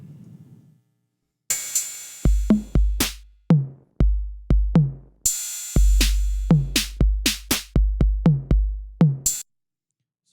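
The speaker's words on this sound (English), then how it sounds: "So what you're hearing is the MIDI notes being triggered into the drum rack" Drums from an Ableton drum rack fire in a randomly generated, uneven pattern: punchy kick-like thumps and sharp clicky hits in irregular bursts with gaps between them, clear and up front, with no voices.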